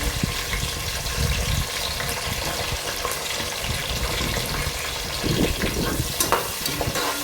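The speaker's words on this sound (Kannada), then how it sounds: "ಸೊ ನಾವೆಲ್ಲ ನೀಟಾಗಿ ಈ ರೀತಿ ಅದನ್ನು ಫ್ರೈ ಮಾಡ್ಕೊಬೇಕು ಫ್ರೆಂಡ್ಸ್" Onions with biryani masala and green chillies fry in a pan for chicken biryani, a steady crackling sizzle broken by scraping stirs, close and continuous with no talk.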